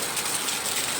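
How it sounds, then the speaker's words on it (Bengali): Heavy torrential rain pours down steadily, a dense continuous hiss of downpour close by with no pauses, filling the whole moment without any voices. "মুষলধারে বৃষ্টি হচ্ছে।"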